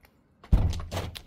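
A house's entrance door opens with a single solid thunk after a brief silence, followed by a short, softer rattle and bump of the door moving.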